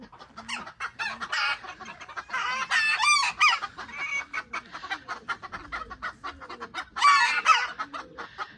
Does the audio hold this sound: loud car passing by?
no